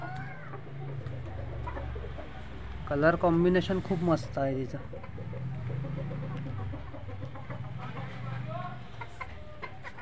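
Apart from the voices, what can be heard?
Gavrani native-breed chickens clucking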